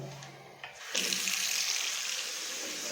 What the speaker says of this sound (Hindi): इसमें देखो वॉश बेसिन में चालू करूंगा